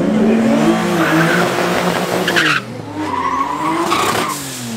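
A Nissan 300ZX drifts at a race track, its tires squealing loudly in long wavering howls over a steady engine roar, the screech dipping briefly midway before resuming strongly.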